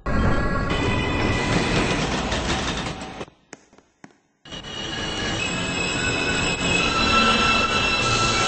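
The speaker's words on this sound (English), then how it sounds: "This is a Manhattan-bound Q train via the M line." A Manhattan-bound New York City Q subway train running via the M line, loud and close, with a rumbling roar and squealing wheels. The noise drops out briefly midway, then the steady rumble and screech return.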